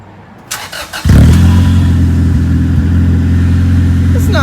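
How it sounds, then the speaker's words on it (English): An Acura Integra with no muffler cranks over and catches, then settles into a loud, raw, steady idle with a brief rev, close by and alone after a couple of starter bursts. "Let's see what this car sounds like now that it's got no muffler"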